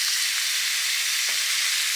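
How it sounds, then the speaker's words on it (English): Eggs fry in butter and bacon grease in a pan, giving a steady, close, even sizzle with no pauses and no talking. "I do also like to cook the eggs in butter."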